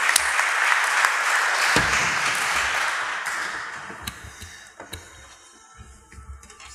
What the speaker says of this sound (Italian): ti facciamo un applauso